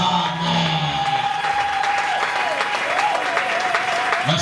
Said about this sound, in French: Là où tu es, tu vas acclamer et tu vas acclamer pour ces cris de joie.